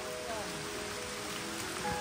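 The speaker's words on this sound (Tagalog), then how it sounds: "Grabe talaga ang ulan eh." Heavy rain pours steadily on a mountain hiking trail, a dense continuous hiss filling the scene close around the listener.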